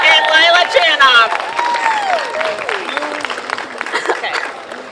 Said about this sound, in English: Please give a round of applause to Natalie Zelinsky and Lila Chanoff.